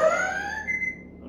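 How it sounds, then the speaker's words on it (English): A ZKTeco TL800 smart lock gives an electronic alarm after a failed card attempt at a door, a short clear beeping tone that slides and fades over about a second. "Alarm sounds for you, and you get an alert on your mobile phone to tell you someone is trying to access your door."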